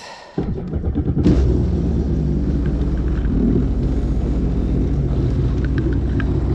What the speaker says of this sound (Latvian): Bišķi uzsildam dzinēju.